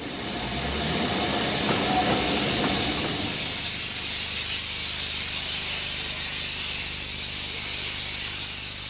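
Peppercorn Pacific steam locomotive Blue Peter setting off on a 1960s rail tour, a heavy chuffing rumble and hiss building at first, then giving way to a sustained rolling roar of rail noise.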